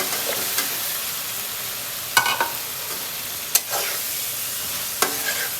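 Vegetables stirred into sizzling fried spice paste for a koi fish curry, with a constant close hiss of frying broken by a few sharp scrapes of the spatula against the pan.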